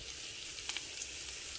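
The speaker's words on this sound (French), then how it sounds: "je vais venir là maintenant mettre dans la poêle mon oignon et mon paprika découpé en lamelles" Onion and green pepper strips sizzle softly in a frying pan, a faint, even hiss with a few light crackles and no talking.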